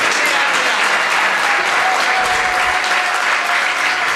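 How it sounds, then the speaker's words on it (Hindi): Loud, sustained audience applause for the team at a Practical Dharma retreat workshop on positive parenting, a dense, even roar of clapping from a large crowd with faint voices mixed in. "कितनी देर बजा सकते हैं? तालियां बजाते रहिए।"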